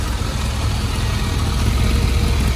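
Kawasaki GPZ 1100 cafe racer motorcycle engine running steadily with a smooth, close, continuous drone and a slight rise in intensity, no voices over it.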